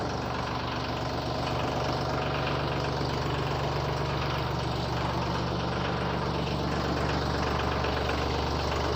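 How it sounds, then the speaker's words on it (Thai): A tractor engine runs at a steady idle nearby, giving a continuous low, throbbing drone with no pauses. "เสียงรถไถจะดังรบกวนนิดนึงนะครั"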